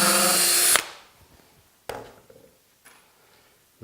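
A power drill drives a screw into a wooden drawer joined with glue and screws for a sled rack, one loud whir that cuts off, followed by a few faint clicks and knocks nearby.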